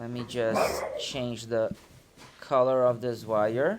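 Dogs barking in a home during an electronics wiring demonstration: a few short barks and yips come through in the background while someone talks over them at close range.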